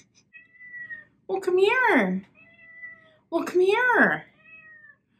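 A pet cat meows twice, two long, loud, close, drawn-out cries separated by a pause, while someone speaks softly and calls it over between the meows.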